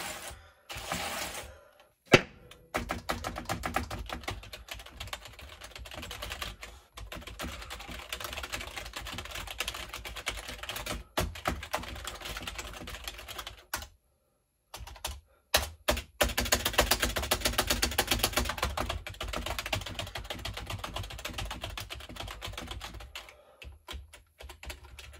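Rapid clicking keystrokes on an old PS2 computer keyboard, a dense steady patter of typing that runs continuously with a couple of short pauses, close and clear with no talking.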